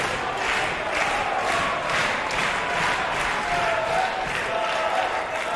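A wrestling arena crowd at a women's wrestling event roars steadily in reaction to a move, with applause and cheering filling the space as a dense, sustained wash of noise.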